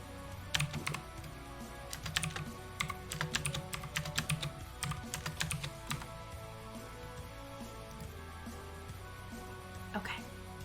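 Quick bursts of typing on a computer keyboard as notes are taken, sharp close keystrokes in clusters that thin out toward the end, with faint voices in the background.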